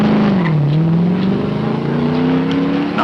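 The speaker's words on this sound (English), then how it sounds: "and the car is sent back onto the track" A race car at the 1968 Hardie-Ferodo 500 accelerates back onto the track after a radiator refill, its engine loud and close, dipping then climbing steadily in pitch through the gears, with no voices.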